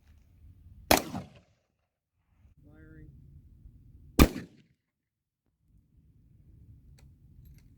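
A .223 full metal jacket rifle round is fired at an AR500 steel target, giving two sharp, loud shots about three seconds apart, each with a short decay, and faint talk between them.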